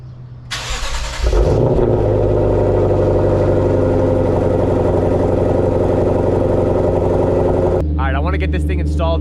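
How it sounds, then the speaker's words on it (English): Lexus RC F with a Borla catback exhaust starting up and idling loud and close, a steady low rumble with harmonic hum, then settling to a deeper idle near the end. "let me show you what the Borla catback sounds like right now"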